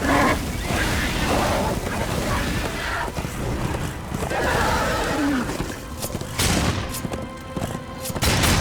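A horse neighs in the video game Darksiders 2, a loud whinny rising over dense game noise with booming effects and hoof clatter.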